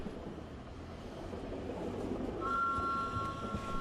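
A train passes by in the background, heard as a steady low rumble that swells slightly, with a faint sustained horn-like tone joining near the end.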